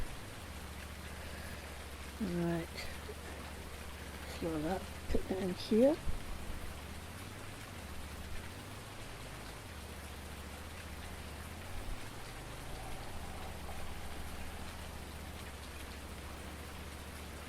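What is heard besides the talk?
rain falling on a farm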